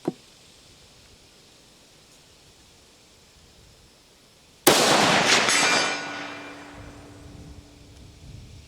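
A single loud rifle shot fired at a target outdoors after a quiet wait, with an abrupt crack followed by a long rolling echo that fades over several seconds.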